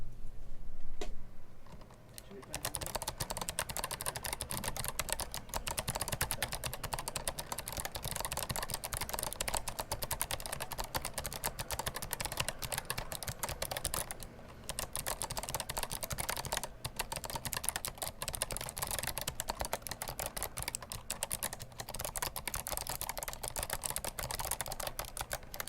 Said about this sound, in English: I'll give you some random typing